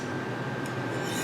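Steel scraping continuously over the grooved face of a ceramic honing rod, a close, even rasp that holds steady throughout with a faint brighter stroke midway and no voices.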